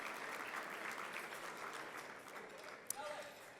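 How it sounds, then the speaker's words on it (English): A university achievement celebration audience gives a steady round of applause for faculty members, dense hand clapping sustained throughout at an even level. "another big round of applause, please, for all of these remarkable faculty members"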